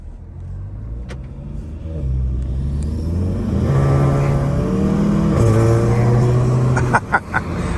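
A tuned Volkswagen GTI with upgrades accelerates, its engine note climbing through several rising pulls, loud and close, ending with a few sharp bursts.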